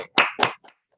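A few sharp hand claps from an audience at a language class event in quick succession, close and bright, then quiet.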